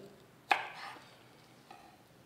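A knife cuts vegetables into thin strips, apparently courgettes and carrots, with one sharp chop followed by a brief scraping cut and a fainter second tap later, close and otherwise quiet.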